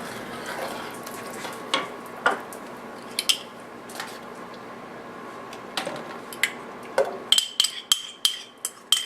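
A wooden spoon stirring egg yolk into German chocolate cupcake batter in a bowl, soft scraping and squishing with sharp knocks against the bowl that come faster toward the end.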